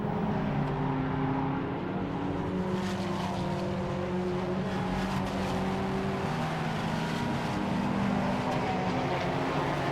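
Race cars, among them a McLaren, howling through Beckett's corner on a circuit, a continuous blend of engines near and far with shifting pitch as cars pass.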